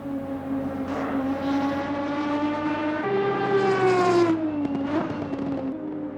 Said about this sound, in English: the gear train and diff whine give way to that familiar, glorious exhaust sound